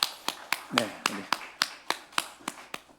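Congregation clapping in a Korean church service, a steady rhythmic series of about a dozen sharp claps in unison, roughly three per second, moderately close, with a voice speaking briefly over the first beats.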